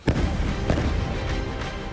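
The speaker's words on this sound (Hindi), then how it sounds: "आखिर में बरसाए गए 2 बम इस इमारत को पूरी तरह से धराशायी कर देते हैं।" Bombs explode against a building and bring it down in war news footage, a sharp heavy blast followed by a second thump and a rumbling, continuous roar of collapse.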